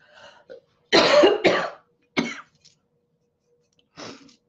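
Several harsh coughs from one person close by, a loud double burst followed by single coughs spaced apart, with silence between.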